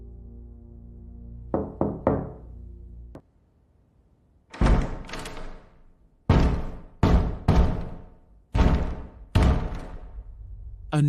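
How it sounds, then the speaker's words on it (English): Heavy knocks on a door in a quiet room: a few lighter raps, then a run of loud, booming knocks in clustered pairs, each ringing out with a short echo. "a sudden, heavy knock echoed through the room"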